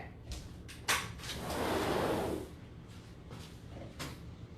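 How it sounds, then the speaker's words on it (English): A patio door slides open with a rumbling roll and a few knocks and clicks, close by in a quiet room. "let me go open up the patio door"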